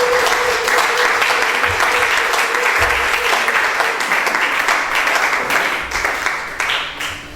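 A church congregation at an Easter retreat evening service applauds to acclaim the Lord, a loud, dense wash of clapping from a large crowd that holds steady and then tapers off toward the end.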